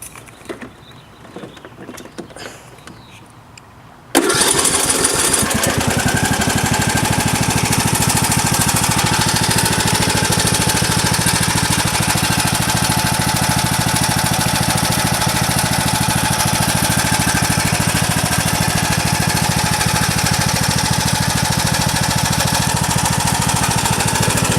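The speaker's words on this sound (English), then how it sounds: "Alright, here's the new John Deere D105." A new John Deere D105 riding lawn tractor with a Briggs Intech 17.5 engine starts up and runs at a loud, steady, unbroken roar after a few seconds of quieter background.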